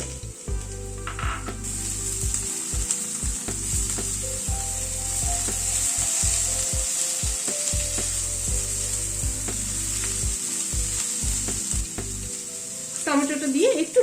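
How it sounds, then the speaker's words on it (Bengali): Chopped, deseeded tomatoes drop into a hot pan of oil for a vegetable sabji to go with roti and paratha, giving a loud, steady sizzle and frying hiss with a few light knocks and scrapes, and no talking. "এখানে 2টো টমেটো কেটে নিয়েছি ছোট ছোট করে, সেটা দিয়ে দিলাম।"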